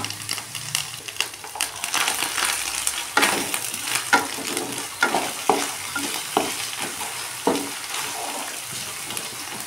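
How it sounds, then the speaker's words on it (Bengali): A paste of ground garlic, ginger, cumin and dried red chilli fries in a pan, sputtering and crackling up close while repeated scraping strokes of a spoon stir it in a steady rhythm. "মশলাটা ভালো করে কষে নেব।"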